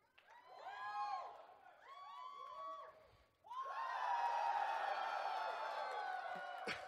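A live magic-show audience whoops and shouts, then breaks into broad, sustained cheering and clapping that fills the room at a steady level.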